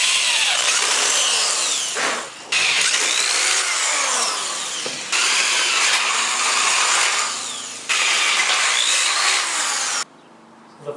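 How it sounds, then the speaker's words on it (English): A power drill whines loudly in four sustained bursts, pausing briefly between runs as the bit bores through material, close and harsh. "the best place to drill a hole"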